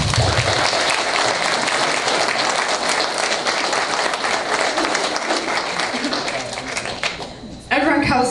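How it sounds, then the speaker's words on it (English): Sustained, dense applause from a large audience honoring the ISRA gun-rights group, steady and loud for several seconds before thinning briefly, with a voice resuming near the end. "let's have a round of applause for the ISRA"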